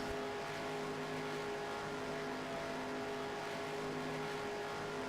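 Sim racing race car engine on an oval at Michigan, clutching under caution, a steady low, faint droning engine hum that holds evenly throughout without revving or passing cars.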